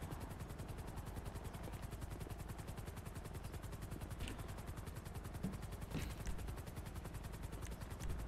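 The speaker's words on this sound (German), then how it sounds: "Warum ist hier ein Hubschrauber?" A helicopter in a GTA roleplay game gives off a steady, rapid rotor chop that runs throughout at a constant level, with a few faint thuds and clatters on top.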